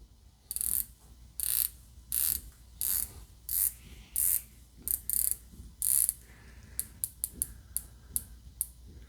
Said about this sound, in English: In terms of bezel action, it's a 120 click unidirectional bezel.